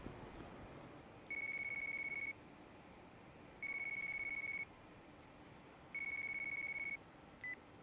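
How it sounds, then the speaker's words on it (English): A phone rings in the video game Yakuza: Dead Souls, giving three evenly spaced electronic ring tones, each about a second long, clear over a quiet background hiss. "It's a phone."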